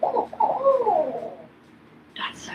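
A person imitates a barred owl's hooting call by voice, a rising and falling hoot repeated in a short, loud phrase up close, followed by a brief higher note at the end.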